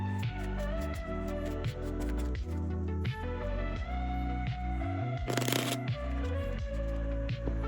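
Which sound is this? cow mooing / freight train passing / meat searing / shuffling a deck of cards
shuffling a deck of cards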